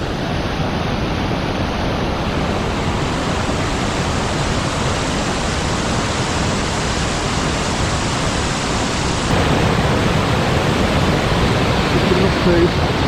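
A waterfall on a hiking trail roars as a loud, continuous broadband rush that fills the whole stretch, steady and close, with a slight swell toward the end.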